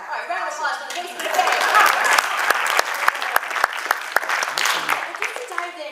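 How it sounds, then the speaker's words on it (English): Audience applause at a Comic Con panel on video game careers, a burst of clapping with distinct sharp individual claps standing out, rising and then fading over several seconds. "All right, round of applause for the basement."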